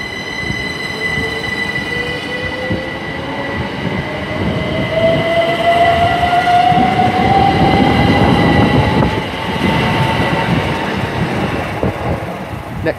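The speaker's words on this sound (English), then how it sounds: "departing out now is the 11:51 to London Paddington" Class 387 electric train departing Tilehurst station toward London Paddington, a steady loud rumble of wheels on rail with a rising electric motor whine and high squealing tones, passing close by without talk.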